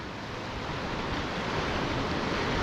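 Waves from the North Sea churn and roll in against the end of a harbour wall, a steady, loud wash of surf with some wind noise across the whole stretch, no voices.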